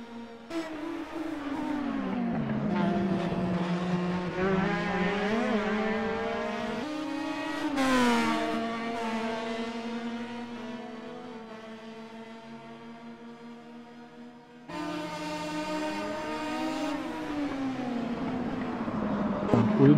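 Sim racing cars lap the Montreal circuit, engines screaming and sweeping up and down through gear shifts, one car close and loud with others passing, the sound dipping briefly before surging back.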